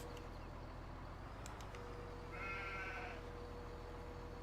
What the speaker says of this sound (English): okay, so there's the sheep